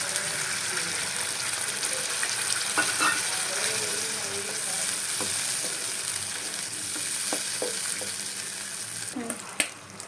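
Taro curry (sola kochu dalna) sizzles steadily in the pan after water is poured in, a continuous close frying hiss with occasional stirring clinks and a sharper spatter near the end.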